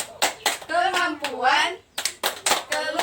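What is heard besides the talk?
group rhythmic clapping, the P2K2 clap chant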